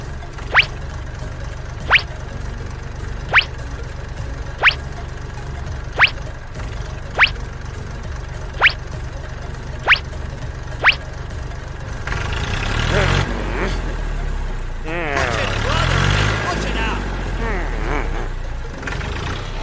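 A small DIY toy tractor's motor runs steadily while the tractor sits stuck in mud, with sharp regular clicks at about one-second intervals, then grows louder and rougher near the end as people talk over it.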